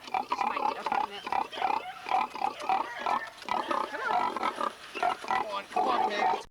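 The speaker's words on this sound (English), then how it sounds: "Come on, pig, let's go. Come on, piggy, that's a good pig." A pig grunts repeatedly up close in a string of rough, uneven bursts, with a person talking softly between them.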